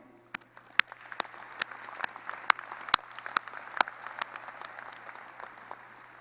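Scattered, distinct claps at a Sac State engineering and computer science graduation ceremony, sharp individual hand strikes repeating at a steady beat over a low steady hum, without a full crowd ovation.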